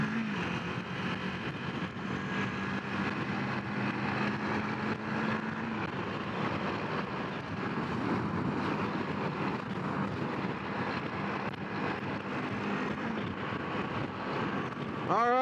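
A Kawasaki Z400 motorcycle climbs steadily to highway speed, its engine drone and wind rush staying loud and continuous without a break.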